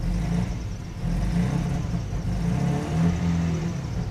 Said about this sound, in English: Sounds like a Volkswagen.